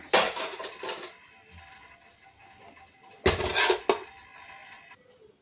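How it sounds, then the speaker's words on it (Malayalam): Household dishes being set into a basket outdoors to dry clatter and clink in two brief bursts, fairly quiet and close, with a calm pause between them. "ഒരു കൊട്ടയിൽ ഞാനിങ്ങനെ ഉണക്കാൻ വെച്ചിട്ടുണ്ട് പാത്രമൊക്കെ"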